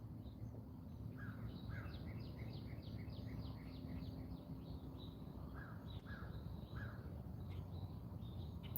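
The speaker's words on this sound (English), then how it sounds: "I don't know if you can hear the birds waking up" Crows and blackbirds call at dawn in a backyard, a faint series of repeated short caws and chirps rising over a quiet low rumble of background noise.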